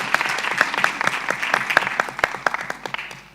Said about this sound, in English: can we also appreciate her again with a round of applause?